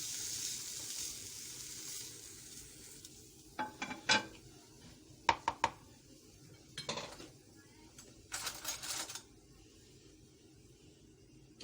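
Chicken pieces sizzling in a hot pan on the stovetop while being made into club sandwiches: a soft, steady frying hiss broken by several sharp metallic clinks and scrapes of a utensil against the pan, close and without talk.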